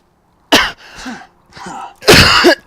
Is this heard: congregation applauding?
no